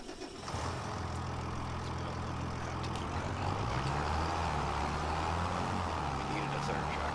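A tractor engine in the farming video game Farming Simulator 25 drones steadily at low pitch, then its tone rises partway through as the engine revs and keeps running.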